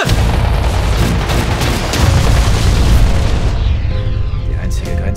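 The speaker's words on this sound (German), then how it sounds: "Granate!" A grenade explosion in a TV series trailer, a loud booming blast with a rumbling tail that fades into music and effects.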